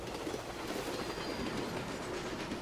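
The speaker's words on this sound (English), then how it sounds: "I like hearing the train go by." A train rolls past in the 1930s newspaper-management game News Tower, a steady, even rumble of rail noise running alone throughout without any break.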